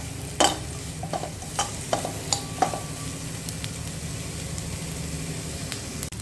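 Onions frying on low heat in a pan, a steady gentle sizzle with a few light spoon taps and stirs near the start, no talking.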